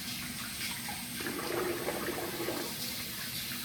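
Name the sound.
running water to wet the face while wet shaving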